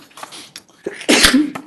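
A single sharp sneeze bursts out at a zoning board meeting, a brief intake followed by a loud explosive release, close and clear in an otherwise quiet room.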